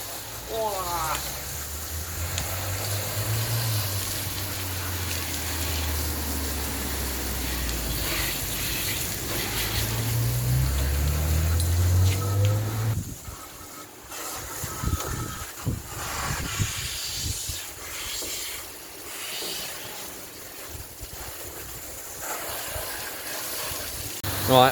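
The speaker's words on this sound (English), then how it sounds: "we're just going to give it a hose down now because it needs it" A hose sprays water under a Ford Focus Mk1, the car's underside and arch liners caked with about 20 years of muck. The jet makes a steady, loud hissing rush for the first half, then turns rougher and more broken.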